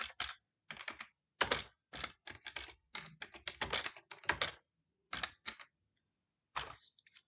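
Typing on a computer keyboard while writing a Python script that imports Pandas, with clustered bursts of sharp keystrokes separated by brief pauses, close and clear.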